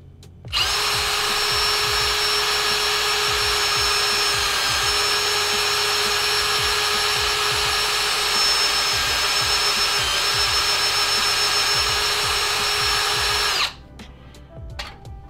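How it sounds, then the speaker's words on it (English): A power drill drives an Oktober Design homebrew can seamer, a steady, loud, high-pitched whine with a faint rhythmic mechanical rattle beneath, holding for about thirteen seconds before cutting off abruptly. "Then start the drill."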